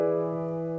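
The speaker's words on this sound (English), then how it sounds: "find that fifth and build a dominant seventh" A sustained piano chord, a dominant seventh built on the fifth, struck once and left ringing clearly and steadily at close range with no voices over it.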